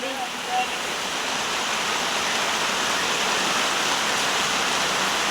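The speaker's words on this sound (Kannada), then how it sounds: "ಮಳೆ ಬೀಳ್ತಾ ಇದೆ ನೋಡಿ" Rain falls steadily over a pomegranate orchard as fruit is being picked, a constant close hiss of downpour with no breaks across the whole stretch.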